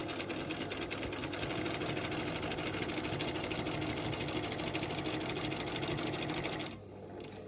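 Home sewing machine stitching close by, a fast, steady mechanical chatter running evenly while free-motion quilting big feather plumes guided by a ruler, stopping abruptly near the end.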